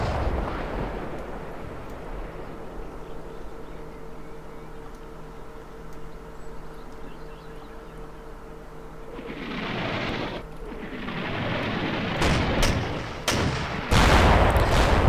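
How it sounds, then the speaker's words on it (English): Artillery barrage from the Combat Mission Market Garden game: a long low rumbling bed that swells into heavy blasts, ending in a cluster of sharp loud impacts near the close. "When I did the artillery falling, it was set to medium frequency, so that's why it's probably lasting so long."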